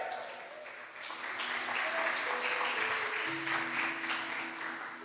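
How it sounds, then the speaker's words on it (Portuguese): A church congregation applauding during a sermon about the Holy Spirit: sustained clapping from many people, moderately distant and somewhat faint, with a few voices and cheers rising over the steady patter. "Será que você pode aplaudir a Deus?"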